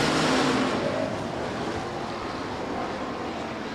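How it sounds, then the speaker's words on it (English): Hobby stock race cars roar around the Rapid Speedway oval during a heat race, a dense, loud engine drone that fills the air and eases slightly after the first moments. "we're hobby stock racing here tonight at the Rapid Speedway"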